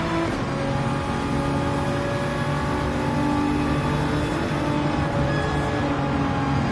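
Toyota Supra race car in Gran Turismo 7 revving steadily with a sustained engine drone and shifting harmonic tones, constant and fairly loud with no talk.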